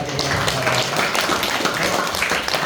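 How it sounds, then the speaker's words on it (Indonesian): A church congregation claps for Jesus Christ during a worship service, giving dense, steady applause that fills the room throughout, with a few voices mixed in. "Beri tepuk tangan bagi Tuhan Yesus Kristus."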